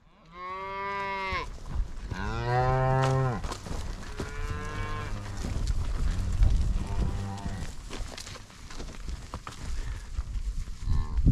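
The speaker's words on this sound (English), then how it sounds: "The cows kind of slowed up." Several cows moo loudly nearby on a ranch cattle drive, long drawn-out lowing calls one after another, with hoofbeats and outdoor rustling between them.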